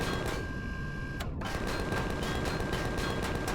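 Rapid, continuous gunfire from the video game Empyrion Galactic Survival blasts at a tower's core, loud and dense from start to finish.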